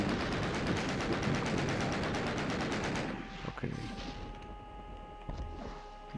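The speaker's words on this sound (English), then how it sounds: "Shooting rocket launchers at them." Rocket launcher fire in the video game Doom, a dense loud burst of rapid blasts and impacts that cuts off abruptly, followed by quieter game tones and scattered hits.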